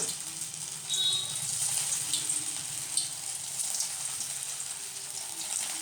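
Poha cutlets frying in a few spoons of oil in a pan over a medium flame, a soft steady sizzle with faint crackles, fairly quiet and continuous.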